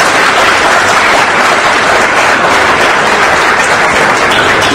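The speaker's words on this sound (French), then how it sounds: "M. Tamoko, je souhaiterais qu'on applaudisse encore très fort" Loud, dense applause from an audience at the opening ceremony of an Abidjan hypermarket, steady and sustained throughout with no break or talk over it.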